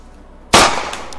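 A sniper rifle fires once in a VR video game, a sudden loud crack with a sharp broadband burst that decays into a short ringing tail.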